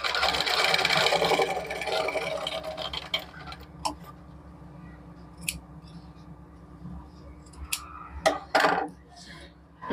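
A sewing machine stitching a lace waist belt, a loud close whirring run for about two seconds, then quieter scattered clicks and handling sounds with soft talk underneath.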